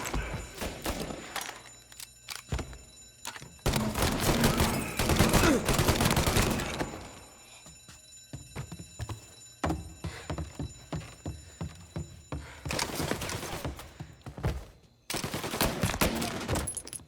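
Bursts of gunfire in the game Mafia: Definitive Edition, with heavy volleys and scattered single shots in separate clusters and short quieter gaps between the exchanges.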